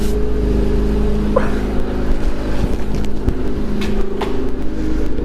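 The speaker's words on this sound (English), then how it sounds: "Especially when I just revved it like an idiot." A car engine fitted with a newly installed Ark GRiP aftermarket exhaust runs loud and close, giving a steady, throaty low drone with slight swells. There is no talking.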